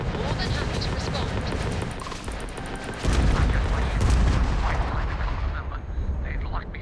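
Spaceship weapons fire in the video game Starfield as a continuous heavy barrage of booming blasts and rumble. It is loud and sustained, with game sounds layered throughout.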